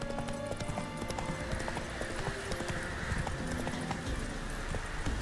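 Horse hooves clip-clop steadily at a riding pace in The Witcher 3, a continuous close rhythm layered over game ambience and music with no talking.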